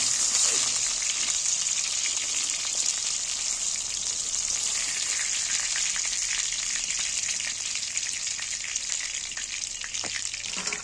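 Continuous loud sizzling of soya chunks frying in hot oil, steady throughout with occasional faint clinks.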